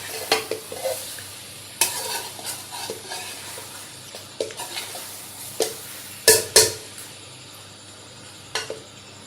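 Meat frying with green chillies for chicken biryani sizzles steadily in a pan while a utensil stirs and scrapes, with intermittent louder clanks against the metal.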